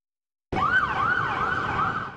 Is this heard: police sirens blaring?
yes